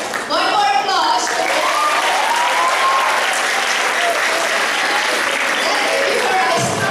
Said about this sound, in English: One more applause.